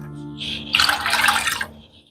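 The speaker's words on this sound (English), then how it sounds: "4 cups of chicken stock, but I'm going to pour it in here" Chicken stock poured into a pot of sugo, a brief splashing, gurgling stream lasting about a second that fades out, heard alone.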